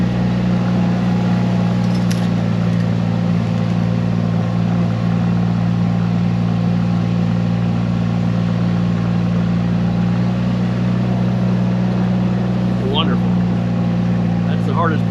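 A vehicle drives up a small dry hill toward a sawmill, its steady engine drone holding loud and constant throughout, with a few brief clanks from the cab.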